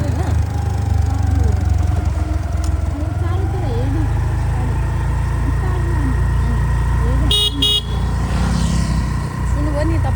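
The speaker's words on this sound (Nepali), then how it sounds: "यस्तो ठाउँमा गाडी आइरहेको छ तल" A vehicle comes along the road while someone learns to ride a scooter. A steady engine and road rumble runs throughout, a short horn toot sounds near the end, and people talk over it.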